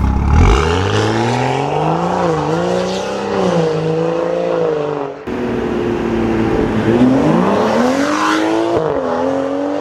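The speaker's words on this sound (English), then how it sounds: "Downpipe make the car completely different. It sounded like a sports car, like a real sports car." A BMW six-cylinder car with a modified downpipe revs loudly and close, the engine climbing and falling through several long sweeps of pitch, cutting off briefly midway before roaring up again with a raspy, sporty exhaust note.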